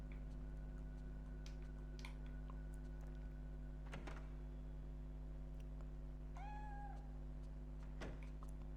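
A cat in the Fatal Frame III video game gives a single short, high meow partway through, faint over a steady electronic hum with scattered soft ticks and clicks around it.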